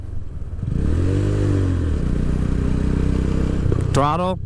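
A motorcycle engine revs during basic rider training at a beach, with throttle blips that rise and fall in pitch over a steady, loud idle rumble, then a brief higher sound at the end.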